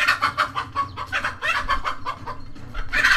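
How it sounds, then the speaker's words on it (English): A mother hen clucks rapidly and loudly while confronting a cobra near her chicks and ducklings, with bursts of agitated, close, repeated clucking throughout and no talk. "This brave mother chicken fends off this snake from her chicks."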